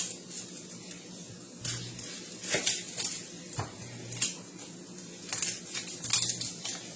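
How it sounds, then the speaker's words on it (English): A knife slices through an onion on a cutting board in a home kitchen, giving irregular, quiet taps and scrapes scattered over several seconds with faint clinking, fairly close. "Now I'm going to cut up an onion and put an onion in there."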